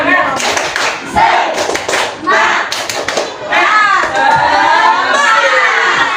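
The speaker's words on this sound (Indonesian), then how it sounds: "Kita tepuk semangat dulu. Tepuk semangat." Classroom of schoolchildren doing a rhythmic spirit clap, loud patterned bursts of hand claps with pauses, mixed with children's shouting and chanting voices.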